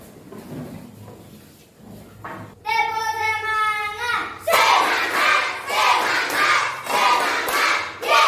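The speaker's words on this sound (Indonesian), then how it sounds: "bisakah Anda memberikan Bapak suatu tepukan hangat berupa tepuk semangat?" A school class performs a tepuk semangat, a rhythmic clapping chant, in a classroom: a group voices a short sung chant, then loud bursts of unison clapping and shouting follow in a regular beat.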